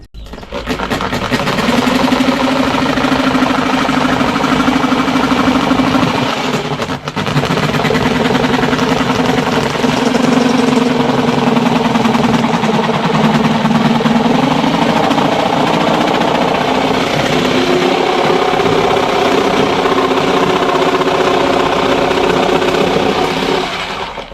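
A 110-volt jigsaw cuts through wood in a long continuous run, a loud buzzing motor drone with rapid blade chatter and one brief dip in the middle.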